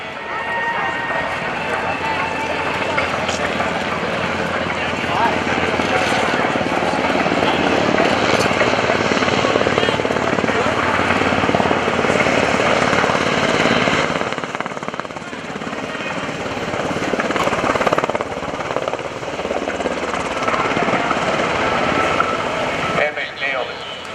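MH-60 Sierra helicopters slow down and land at a naval airshow, making a loud, continuous rotor and engine roar that briefly eases before building again, under an announcer's commentary.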